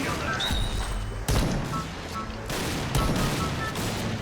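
Gunfire in the first-person shooter game Point Blank sounds as rapid bursts of shots, with sharp loud reports around the one- and three-second marks amid continuous game noise, while a player talks over it.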